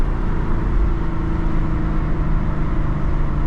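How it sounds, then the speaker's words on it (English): Steady, loud engine drone from a Chevrolet Camaro SS on a night drive, heard from inside the car as a continuous low rumble through downshifts with no talking. "Love those downshifts."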